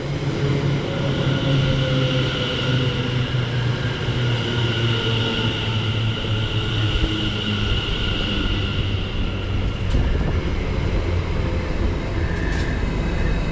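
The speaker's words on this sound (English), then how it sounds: "arriving in now is the 1051 Greater Anglia service to Cambridge North from London Liverpool Street" A Greater Anglia Class 720 electric train pulls into a station on the London Liverpool Street to Cambridge North line, a steady loud rumble and rolling hum with brief higher squeals near the end, and no voices.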